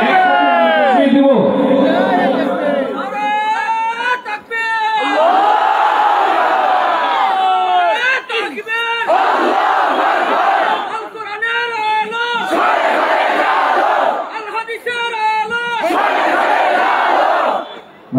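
A large crowd at a live Bangladeshi Islamic song program in Matiyar Para, Kaliganj, chants Naraye Takbir in loud, ringing unison, several rising call-and-response shouts in a row, roaring and sustained throughout.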